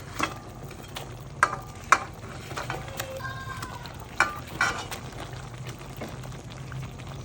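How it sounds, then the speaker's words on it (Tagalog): Milkfish (bangus) fries in a pan for a creamy salted dish, a soft, steady sizzle under scattered pops, clinks and stirring sounds, fairly quiet and close. "Yan, hulog na natin itong mga bangus."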